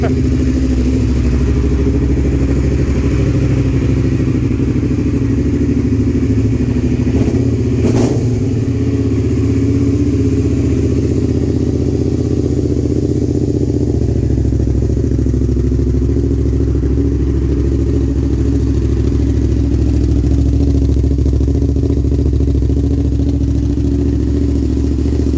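A Suzuki SV650 motorcycle engine idling on choke, a steady loud mid-low drone throughout with a brief clatter near the middle and a slight shift in tone partway as the choke is adjusted.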